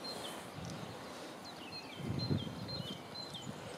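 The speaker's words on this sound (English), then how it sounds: "You can hear the birds singing" Small birds chirp and call around a pond in the open, brief high whistles scattered across the clip over a low steady outdoor rumble, with a soft rustle midway.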